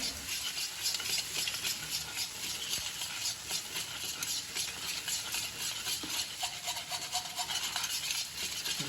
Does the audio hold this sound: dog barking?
no